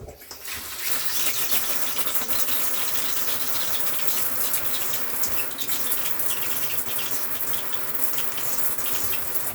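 A shower runs steadily to bleed air from a household water system, a loud, continuous hiss of spraying water with faint rattling throughout and no voices.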